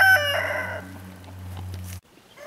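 A rooster on an off-grid homestead gives a single close, loud crow that breaks off abruptly, heard over a steady low hum on a wet spring day.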